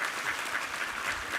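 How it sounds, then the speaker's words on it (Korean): A Korean church congregation claps together during a Sunday sermon, a short burst of full, even applause from many hands filling the sanctuary. "우리 하나님께 감사와 영광의 박수를 드리겠습니다"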